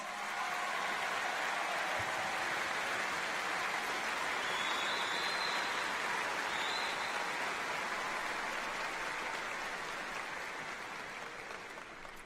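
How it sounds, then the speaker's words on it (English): A large graduation crowd applauds the wind symphony and the service members and veterans honored at a university commencement, a broad, steady wash of clapping that holds throughout and eases slightly near the end. "Can you please give them a round of applause?"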